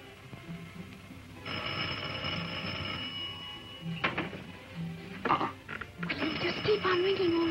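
A telephone rings in repeated electronic bursts at a moderate distance, with muffled clatter and movement around it.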